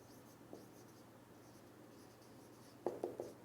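A chemical name is written on a board during an organic chemistry class, with a soft stroke early on and three close, squeaky marker strokes in quick succession near the end over a quiet room hum.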